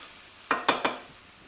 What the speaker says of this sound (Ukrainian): Так, обсмажуємо, ну, так, щоб і морква стала гарно м'якою.